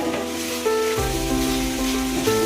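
Chili powder is stirred into softened tomatoes in a hot pan for goat liver tomato curry, giving a steady close sizzle with spoon scrapes and a faint ringing tone, no voices.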